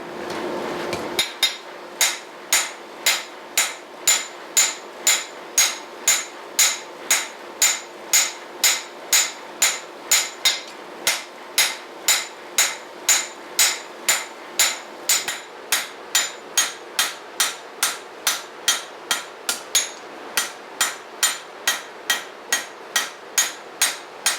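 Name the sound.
hammer forging and beveling a steel blade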